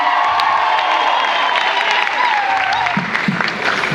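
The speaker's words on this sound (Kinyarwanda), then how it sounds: "tumuha amashyi menshi cyane" A crowd claps and cheers for a Rwandan traditional dance troupe, loud sustained applause with whoops and shouts rising toward the end.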